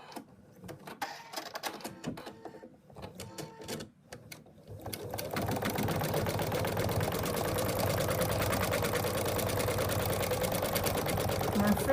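An embroidery sewing machine stitches a satin outline on a cat paw print design, first with irregular clicks and movement, then settling into a loud, steady, rapid mechanical whirr that runs continuously to the end.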